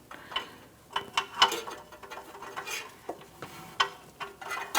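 A ratchet works the downstream oxygen sensor on a 2012-2018 Ford Focus 2.0L four-cylinder, producing close, sharp clusters of clicks in short uneven bursts separated by brief pauses, with no one talking.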